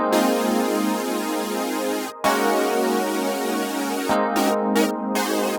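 Electric piano and backing parts arranged to recreate a song, playing sustained chords with a brief cut near the midpoint, then choppy stabs toward the end, loud and steady with no voices.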